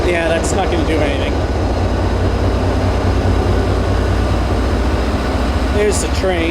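A commuter train on the Leominster to Wachusett line rumbles steadily with a loud continuous drone and brief squeals at the edges, while people talk over it.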